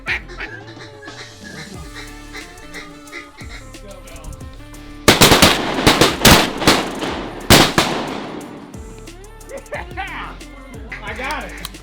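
Shotgun blasts fired at canvasback ducks on a sunny duck hunt, a rapid cluster of loud, sharp shots close by, with people talking before and after and between the bursts.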